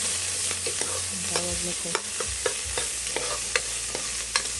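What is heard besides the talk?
sautéing garlic and red onion in a pan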